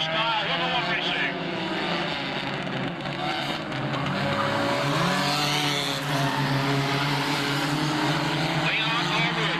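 Race cars roar past at the green-flag start of an oval track race, engines loud and sustained with rising and falling pitch, under a continuous track announcer's commentary.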